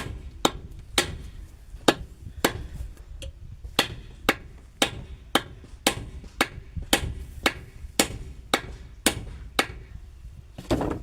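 Hammer driving nails, a steady series of about twenty sharp strikes at a roughly even pace, close and distinct against quiet background.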